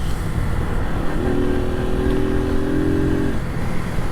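Small Suzuki motorcycle accelerating up through the gears, heard from a helmet-mounted mic as a steady loud engine drone with wind rumble and a rising tone in the middle, no speech.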